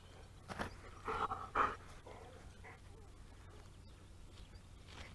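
A pet dog pants and whimpers in a short, breathy burst outdoors during garden border edging and weeding, with faint talk in the background.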